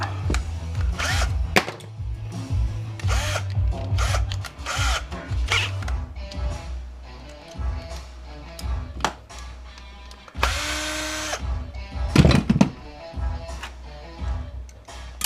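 A power drill with a bit whirs in short bursts while a Delta kitchen faucet is taken apart for brass scrap, its motor runs separated by metallic clicks and handling clatter of small parts, close and moderately loud.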